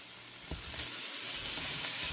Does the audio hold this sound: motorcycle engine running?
no